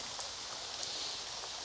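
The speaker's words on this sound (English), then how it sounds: "Yes, it's still raining" Steady rain falling outdoors, a soft continuous hiss with scattered drops, even and moderately quiet throughout with no talking.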